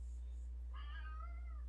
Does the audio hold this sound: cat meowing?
yes